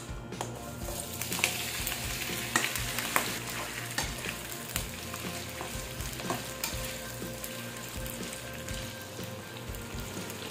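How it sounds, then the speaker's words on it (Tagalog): Shrimp sizzle steadily in hot cooking oil in a pan, a continuous close crackling fry with occasional sharper pops and stirring clatter, no talking. "Maglalagay tayo ng cooking oil. Lagayan natin itong ating shrimps."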